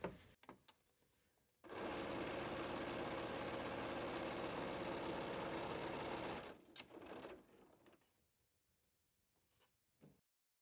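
Top-stitching along two folded fabric edges, a sewing machine runs in one steady continuous burst of about five seconds, bracketed by quiet handling noises.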